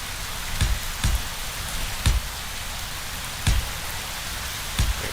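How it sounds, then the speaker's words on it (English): Steady rain hisses across the whole clip in the Space Engineers video game, broken by several soft low thumps spaced a second or more apart. "Yeah, I realize it's raining."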